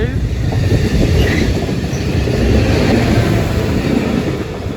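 A railtour train passes through Headcorn station, with loud, continuous wheel rumble and rail clatter close by throughout and a faint voice underneath.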